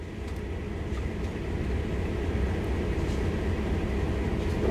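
A CSX freight locomotive idles in Train Sim World, a steady low diesel rumble that holds close and even throughout, with no talking.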